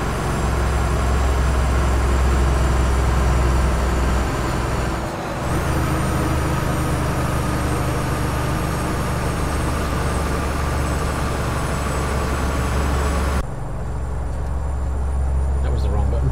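A heavy truck engine in Euro Truck Simulator 2 drones steadily while driving over a bridge, a loud continuous rumble with a brief dip partway through and a shift in tone near the end.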